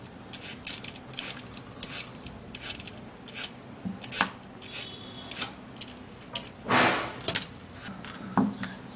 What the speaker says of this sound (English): we're going to be peeling the carrot